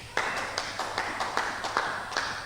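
A church congregation claps together in a steady rhythmic beat, about two claps per second, loud and even with a faint murmur of voices underneath.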